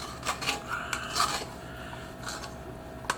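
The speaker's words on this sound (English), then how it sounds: "use my bowl scraper to scoop a bunch of dough directly in here." A bowl scraper scoops sticky oat and rye dough into a plastic Tupperware container, giving soft close rasping scrapes and wet rubs in a few short strokes.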